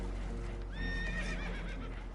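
A spooked horse aboard a boat in a video game whinnies loudly once, a rising and falling neigh over a low rumbling background.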